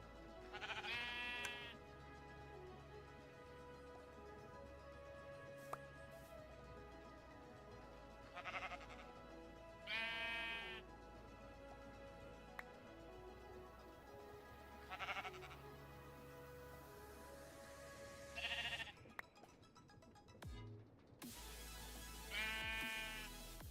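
Sheep bleat on a sheep farm in the Minecraft-style video game VoidCraft, with about six clear, nasal bleats spaced irregularly over a faint, quiet background.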